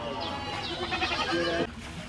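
Goats bleating at a busy wholesale goat market in Malappuram, Kerala, a loud, drawn-out bleat up close that cuts off sharply, with crowd voices and chatter mixed underneath.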